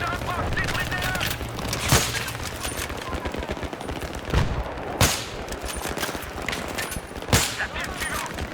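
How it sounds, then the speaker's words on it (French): Gunfire in the night squad mission of the video game Battlefield 3: sustained rattling automatic fire with several sharp louder shots standing out, mixed with in-game voices shouting orders. "On prend des tirs! Les impacts se rapprochent!"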